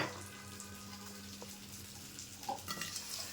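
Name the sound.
frying potatoes in oil in a wok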